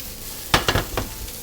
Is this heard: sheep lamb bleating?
no